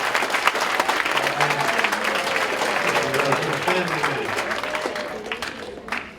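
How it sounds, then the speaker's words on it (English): A teen conference audience claps loudly and steadily for a motivational speaker, dense applause throughout with voices and a few shouts mixed in, tapering slightly at the close. "You guys didn't give me a big enough hand clap for the family part."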